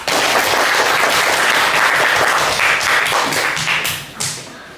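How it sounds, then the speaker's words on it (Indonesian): Students in a classroom break into dense, loud applause lasting several seconds, thinning out toward the end with a final few stray claps. "Ya, tepuk tangan untuk kita semua."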